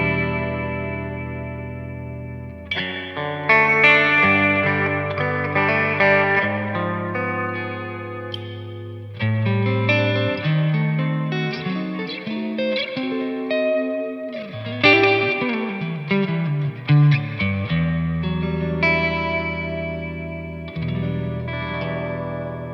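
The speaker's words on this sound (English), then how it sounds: "So it's a really cool reverb." Electric guitar played through a Victory Lunchbox amp head and cab with reverb turned up, sustained chords and picked notes ringing out in long shimmering tails, alone with no talking.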